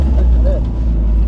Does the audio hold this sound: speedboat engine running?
yes